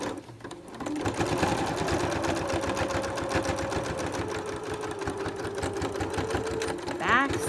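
A sewing machine runs steadily while back stitching a cloth mask, a close rapid rhythmic whir for several seconds, with a person talking over it.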